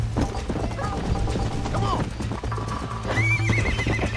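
A horse in the video game Red Dead Redemption gallops with rapid clip-clop hoofbeats and lets out a loud neigh near the end, with someone talking over the action.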